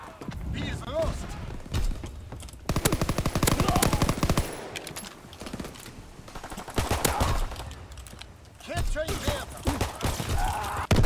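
Rapid fire-shotgun blasts in a video game crackle in dense bursts, loud and close, with brief pauses between volleys and a voice speaking over parts of the action.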